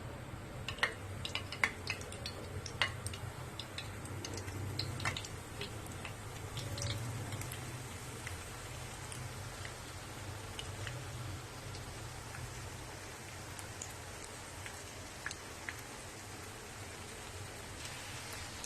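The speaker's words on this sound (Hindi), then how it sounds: "अब हम एक एक करके इसमें अपने कटलेट्स डालेंगे।" Chicken cheese potato cutlets fry in hot oil in a frying pan, giving a steady, soft crackling sizzle with scattered sharp pops and ticks throughout, fairly quiet and without talk.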